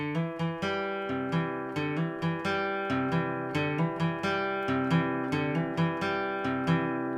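An acoustic guitar plucks a lively melodic line of quick, evenly spaced notes over ringing strings, played alone and fairly quiet.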